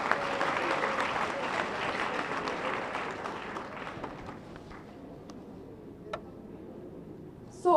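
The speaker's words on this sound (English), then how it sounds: "I think Mr. Governor and the Executive Council deserve a round of applause." Audience applause at a retiree bond award ceremony, a broad steady wash of many hands clapping in a hall that gradually thins and fades toward the end, with a few scattered late claps.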